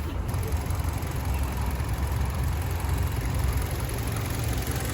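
A 2021 Kia Ceed 1.6 with automatic transmission idles steadily with a low, continuous rumble, close by and unbroken for the whole stretch.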